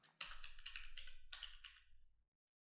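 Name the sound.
computer keyboard typing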